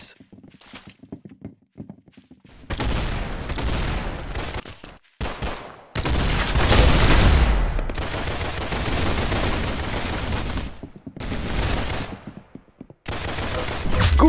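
Loud, dense gunfire from the Arsenal video game: sustained bursts of rapid shots crackle and boom almost without pause, broken by a few short gaps, preceded by a quiet stretch of light clicks.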